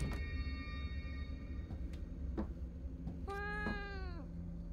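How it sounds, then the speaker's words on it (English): A cat meows inside the horror video game Fears to Fathom: Woodbury Getaway, one clear drawn-out meow over a low rumbling ambient bed with a few faint clicks and footsteps. "It's a cat, bro. It's a cat."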